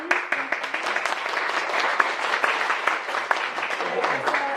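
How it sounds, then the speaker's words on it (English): An audience at an animal rights activism talk gives Lisa Cron another round of applause, steady clapping with a few sharp individual claps standing out, continuing throughout at moderate loudness. "let's give another round of applause to Lisa, please"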